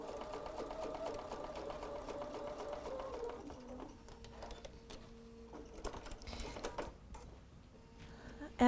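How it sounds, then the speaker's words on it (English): A BERNINA 770 sewing machine with a 57D foot stitches fabric corner to corner, running in quick steady bursts with short pauses between runs, close and clear. "I'm sewing with the BERNINA 770 today"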